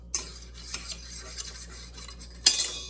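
Egg and milk beaten in a bowl for toddler-made waffle batter, a utensil scraping and clinking steadily against the bowl, quiet and close, with a sharper clink near the end.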